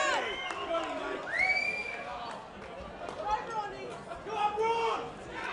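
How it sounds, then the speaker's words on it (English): A crowd gathers before a fight, with overlapping chatter, scattered shouts and whistles filling the space at a moderate level, while voices rise and fall throughout. "The crowd gathers."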